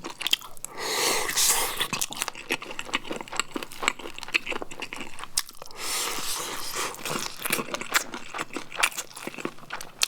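Grilled spicy beef intestines (makchang) are chewed close to the microphone, producing repeated wet, crunchy bites and chewing in uneven bursts, with no speech.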